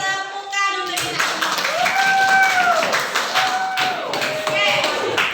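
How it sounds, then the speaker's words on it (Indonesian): A school class claps together in a classroom, a loud burst of many hands that swells and then continues raggedly, with a teacher's voice and some children's voices over it. "Sekarang beri tepukan untuk kita."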